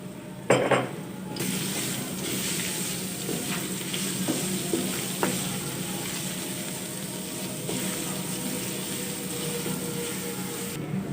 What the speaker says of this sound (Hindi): लहसुन को अच्छी तरह से गोल्डन कर लेंगे।